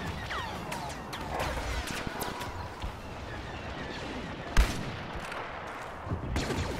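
Gunfire crackles in irregular bursts with a sharp blast midway and another near the end, the steady din of a Star Wars Battlefront ground battle with downed walkers and ships overhead, loud and dense throughout.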